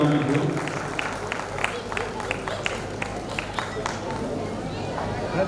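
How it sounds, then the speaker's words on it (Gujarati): Applause from a seated crowd at a Mewada Suthar community get-together honouring a guest, with rhythmic clapping spreading through the room over a constant murmur of voices. "જોરદાર તાળીઓથી આપણે એમને સન્માનિશું"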